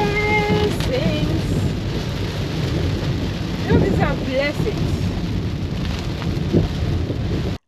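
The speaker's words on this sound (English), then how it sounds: "As the rain began to fall" Steady rain pours in Antigua, with low rumbles of thunder rolling underneath and a few faint voices briefly rising over the constant hiss of falling water.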